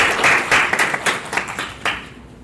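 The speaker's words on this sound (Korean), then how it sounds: "박수 부탁드립니다" Applause from a conference audience at a Korean Ubuntu user event, a burst of clapping that swells and then thins into scattered claps before fading.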